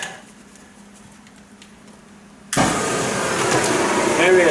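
A torch flame is lit to heat metal for bending in a shop: quiet room tone, then an abrupt loud broadband roar as the flame catches and keeps burning steadily.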